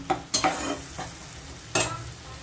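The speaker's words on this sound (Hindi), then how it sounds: "ये जो पेस्ट रखे थे ना टमाटो का, वो डालेंगे। अब इसको अच्छे से चला देंगे।" Tomato paste is stirred into masala frying in a pan, giving a few quick scraping strokes over a soft sizzle, close and fairly quiet.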